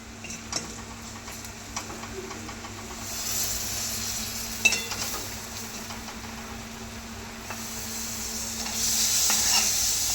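Chicken and tomatoes frying in a pan, being stirred: a low, steady sizzle with scattered scraping ticks from the utensil, faint and close, growing a little louder near the end, with no voices.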